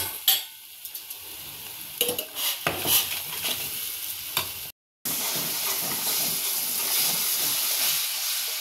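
Frying masala for an egg curry is stirred with scraping spoon strokes over a steady sizzle, then after a short break water is added and the pan settles into a broad, even hissing bubble, close and with no talk.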